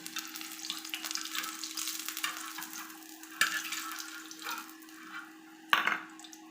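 Garlic sizzles steadily in hot oil in a pan, with a constant crackling fry and two sharper clinks or stirring scrapes partway through.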